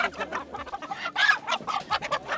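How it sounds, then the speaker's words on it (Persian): Chickens cluck busily at a poultry market street in Kabul in cold winter weather, a dense run of close, overlapping squawks and clucks with no pause. "اینجا راسته مرغ است دیگه"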